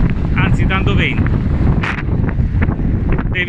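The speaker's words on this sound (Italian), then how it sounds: "C'è un po' di vento," Strong gusty wind buffets the microphone of a cyclist riding across a bridge on the SS 531 road in Calabria, a loud, continuous low roar with faint voice fragments underneath.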